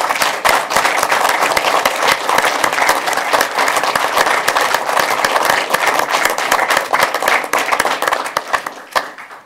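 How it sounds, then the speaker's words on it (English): Audience applause at a fire district board meeting fills the room, dense steady clapping that stays loud throughout before tapering off abruptly at the end. "I think we ought to give her a big round of applause."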